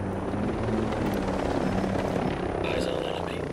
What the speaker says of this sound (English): Helicopter, get low.